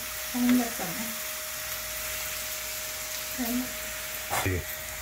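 A tablespoon of garlic paste frying in a pan while making paneer with kasuri methi, a quiet soft sizzle broken by a few brief stirring scrapes, with no talk.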